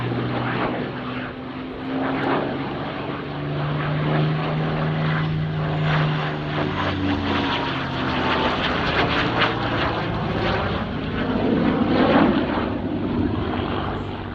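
Supermarine Spitfire fighter plane running in and flying past at an air display, its propeller engine droning steadily and swelling louder as it approaches, with no talk over it.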